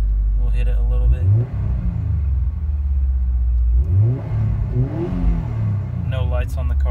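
A 2016 Subaru WRX turbo engine revs while the car is driven, climbing twice in strong rising surges over a loud, steady rumble, with a person talking inside the cabin.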